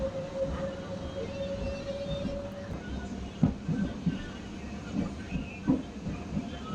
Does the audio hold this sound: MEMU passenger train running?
yes